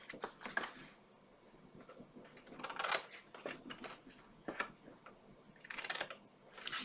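Scissors snip at the outside edges to miter them, a series of short close crisp cuts in an irregular rhythm with quiet gaps between them, set against a faint room background.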